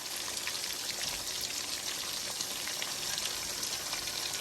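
Lumpia frying in oil, giving a steady close crackling sizzle with dense popping bubbles that holds evenly throughout, with no voices.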